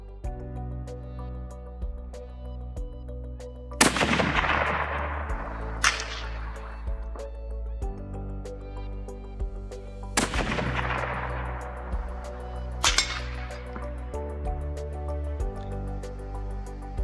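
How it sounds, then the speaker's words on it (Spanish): A Bergara Premier Highlander rifle fires at a long-range target outdoors: two loud cracks spaced several seconds apart, each followed about two seconds later by a fainter delayed report and a long decaying echo. "el primer disparo con la corrección del viento, según nos marcaba el Kestrel, se ha ido un pelín, ha pasado rozando"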